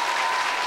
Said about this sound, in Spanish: Un aplauso para esta hermosa familia.